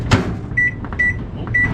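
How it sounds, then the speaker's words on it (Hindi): A microwave in a Busan convenience store, loaded with ramen noodles: a door thud, then three short, bright keypad beeps spaced through a quiet room. "रेमन नूडल्स ले लिए, यहीं पे बना लूँगा, माइक्रोवेव में डाल दिए, बन जाएंगे 3-4 मिनट में"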